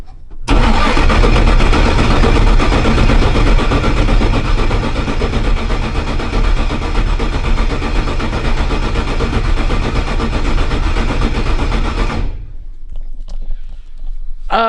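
A dyno-bound race car engine cranks briefly, then fires and runs loud and steady for about twelve seconds before cutting off abruptly, close up with no talk over it.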